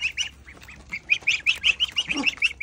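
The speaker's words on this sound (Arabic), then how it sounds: "بط بط بط بط بط بط بط بط" Ducks quack in a rapid, uneven series of close, nasal squawks, several calls overlapping at moments and with no talking.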